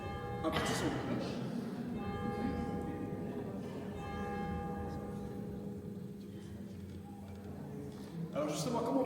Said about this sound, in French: on enchaîne avec un petit son de cloche